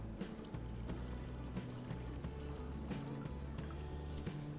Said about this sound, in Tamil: இதை நல்லா ஒரு 2-3 வாட்டி வாஷ் பண்ணிவிட்டு இந்த தண்ணியை அவுட் பண்ணிவிடுங்க